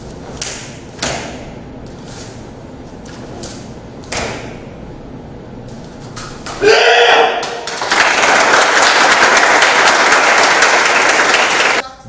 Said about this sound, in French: Application, stabilité et précision sont les maîtres mots de cette démonstration, suivie d'un slave d'applaudissements.